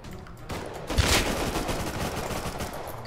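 LR rifle fire in the survival game Rust, a rapid burst of automatic shots crackling loudly for a few seconds after a quieter lead-in, no voices.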